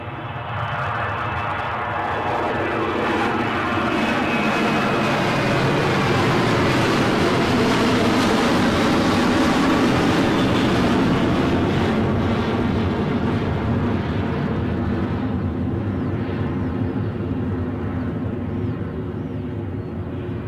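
Business jet taking off at Edinburgh airport, a loud sustained engine roar that builds, peaks midway, then gradually fades as the aircraft moves away, with no talking.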